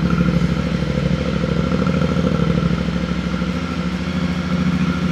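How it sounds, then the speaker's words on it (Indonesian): Two-cylinder crossplane engine of a 2025 Yamaha Tenere 700 idling steadily around 1500 RPM, a close, continuous uneven throb with overlapping beats and light mechanical clatter. "Ini suara stasionernya begini nih, sekitar 1500 RPM."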